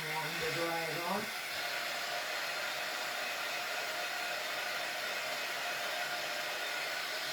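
A hair dryer blows steadily on a painted Christmas craft project, a loud continuous whooshing roar after a brief moment of talk at the start.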